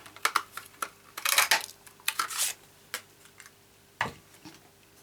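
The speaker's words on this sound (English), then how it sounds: "I'm going to use this punch again. I'm going to cut one out." A hand paper punch works through cherry cobbler cardstock in a run of light clicks and crisp snaps, close and quiet, with a brief crunchy burst near the middle.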